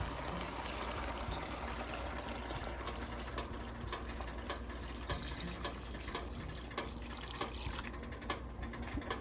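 Water pours into a pot of cabbage soup on the stove, a continuous faint splashing and trickling stream with small drip-like ticks, heard alone and quietly.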